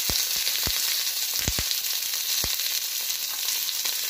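Beans, potato and small batashi fish lightly frying in a frying pan give a steady, close hiss of hot oil, broken by a few sharp spatter pops and scrapes.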